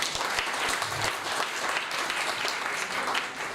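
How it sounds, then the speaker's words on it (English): Sustained applause from a conference audience for a panel on pedestrian spaces, a dense even patter of many hands clapping throughout, with no voices standing out. "Can we have a round of applause for the panel?"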